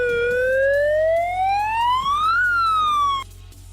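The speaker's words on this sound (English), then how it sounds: "playing the siren scared the crap out of me" A police siren plays loud and alone, one long rising wail that peaks and begins to fall before cutting off abruptly, leaving a low steady hum underneath.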